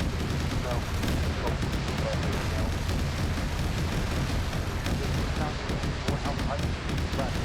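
Gunfire and artillery in a military wargame battle at a winter airbase, a constant dense roar of shots and blasts with no break, loud throughout.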